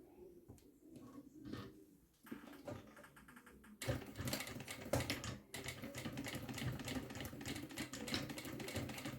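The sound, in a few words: sewing machine stitching a backstitch on a zipper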